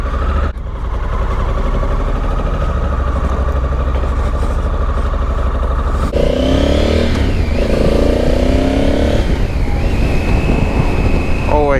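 A motorcycle rides over gravel on a morning ride, its steady engine drone and wind rush continuous throughout, growing a bit louder and rougher midway as someone talks over it.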